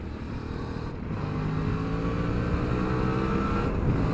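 A 2021 Suzuki DL650XT V-Strom motorcycle engine pulls hard under acceleration for an overtake, a steady loud drone building in pitch and volume across the run with no talk over it.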